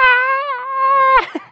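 A voice imitates a door creaking slowly open, a long drawn-out tonal squeak that wavers and holds for about a second before breaking off into a short breathy sputter.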